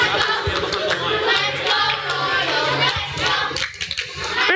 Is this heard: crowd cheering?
yes